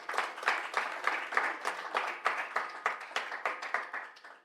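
An audience at an Oxford Africa conference panel on social movements and good governance claps to welcome a speaker, a fairly close, steady round of applause with rhythmic clapping bursts and no talking.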